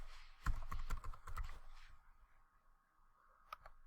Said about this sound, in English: and type in our company name.